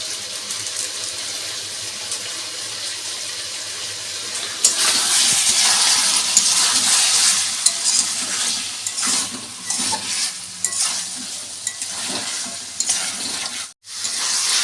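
Spiced masala for dahi chicken made with sour yogurt, sizzling and frying in oil in a pan, with a steady hiss that swells partway through, plus occasional stirring scrapes and clinks.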